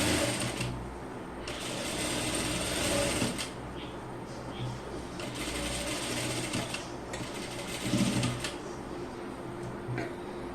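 A sewing machine stitches children's pants in several bursts of whirring, separated by pauses with mechanical clicks and fabric handling; a voice is faintly present at times.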